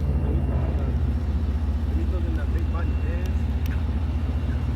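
A car pulling up, its engine a steady low rumble close by, with faint voices underneath.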